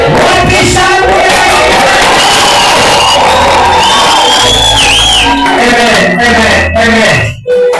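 A church congregation at an ordination service cheers, whoops and shouts loudly and continuously, a dense crowd roar with yells rising above it, fading briefly near the end.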